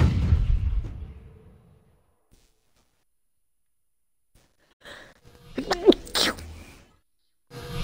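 A single sneeze bursts out loudly at the start and fades, followed by a long silence and then brief speech during a Roblox hide-and-seek game.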